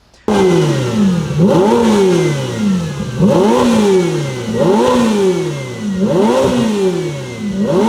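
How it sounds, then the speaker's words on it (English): A loud Ferrari engine with a Novitec valved exhaust revs repeatedly, each rise swelling to a throaty exhaust roar then falling back, in a regular cycle of about five blips. "it's a valved muffler system, and it makes it sound so much better"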